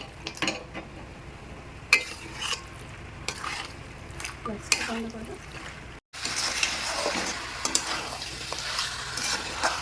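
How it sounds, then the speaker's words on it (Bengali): Chicken being stirred and fried in a pan, with repeated scraping and clinking of a utensil over a continuous sizzle that grows louder and denser after a brief gap midway. "চিকেনটা অ্যাড করে দিয়ে এরকমভাবেই নাড়িয়ে নাড়িয়ে আমি কষতে থাকবো"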